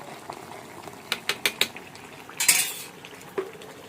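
Moong dal and rice cooking in a pot with ghee, stirred with a spoon, giving a few sharp metallic scrapes and clinks against the pot at uneven intervals over a low bubbling simmer.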